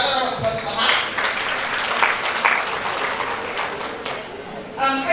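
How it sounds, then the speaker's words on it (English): An audience at a women's forum gives a round of applause, a full, steady wash of clapping that stays loud throughout, with a voice rising over it near the end. "Please, another round of applause for her."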